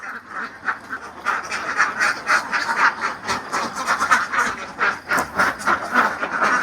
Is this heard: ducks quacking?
yes